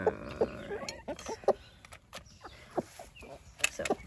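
Backyard chickens, including a rooster, clucking and making short scattered calls while pecking at food scraps, quiet and close with soft rustling between the calls.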